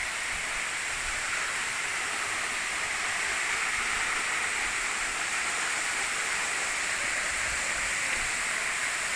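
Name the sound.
waterfall cascading at Jalagamparai falls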